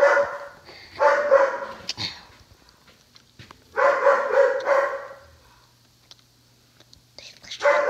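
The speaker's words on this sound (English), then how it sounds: "My dogs won't shut up." Dogs bark nearby in loud clustered bursts separated by quiet gaps, with some soft whispery vocal sound between them.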